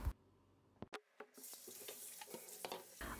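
Raw cleaned anchovies rinsed under running tap water in a sink, a steady splashing stream with a few sharp clatters, fairly close and alone without any talk.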